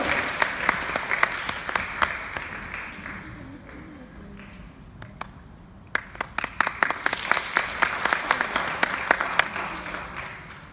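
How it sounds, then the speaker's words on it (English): An audience at a classical piano competition applauds a young performer. The clapping is a dense roar at first, thins to sparse scattered claps around the middle, then swells again with sharp individual claps standing out near the listener. "Round of applause, of course."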